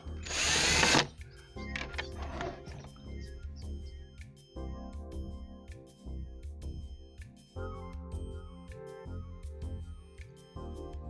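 A power drill fastens the lid onto a bottle beehive, opening with a loud, brief whine, then another short burst, followed by steady mechanical clatter and ringing tonal sounds.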